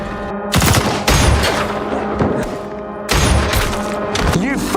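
Movie gunfire from a sniper: two loud bursts of rapid shots, close and heavy, the first early on and the second about halfway through, with booming echoes ringing between them.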